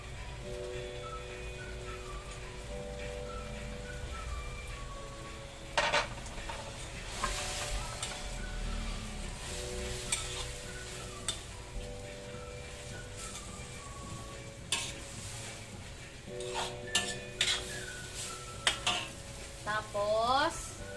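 Tofu sizzles steadily in a frying pan after soy sauce goes in, with a continuous frying hiss under repeated sharp scrapes and clanks of a utensil stirring against the pan, heard close with no talk.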